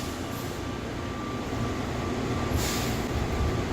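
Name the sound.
airport plane train departing at Atlanta airport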